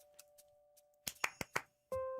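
Several separate hand claps, four or five sharp close hits in a loose burst after a few faint taps, quiet overall, with a steady electronic hum and a brief tonal blip at the end.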